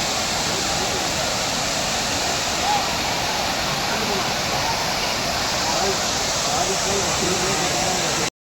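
Water rushing over Kodiveri Dam in a loud, steady roar that fills the whole stretch without letting up.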